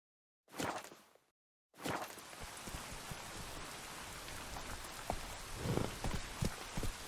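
Steady pouring rain in The Witcher 3: Wild Hunt, a dense hiss of drops that cuts out briefly after a short opening burst, then continues unbroken with occasional louder splashes and thuds near the end.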